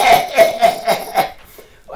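A voice imitates an old man's cough, giving a run of about five rough, rhythmic hacking bursts close up, then trailing off into quieter breathy sounds.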